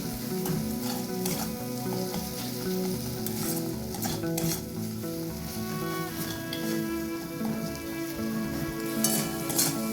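Spiced masala with pointed gourd (potol) stir-fried in oil in a pan for a Bengali tel jhal, sizzling steadily for ten seconds with scraping stirs, under soft background music and no talk.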